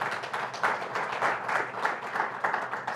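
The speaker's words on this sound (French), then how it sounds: "inviter à mes côtés, sous vos applaudissements, M. Ben Chakroun" A conference audience claps steadily to welcome a panel moderator, an even, moderately loud patter of many hands with gentle swells, no voices over it.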